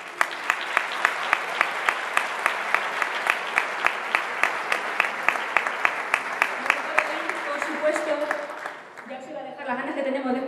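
Applause from the audience at a Lent concert in Socuéllamos, steady and sustained with sharp individual claps standing out, gradually fading out as voices take over at the end.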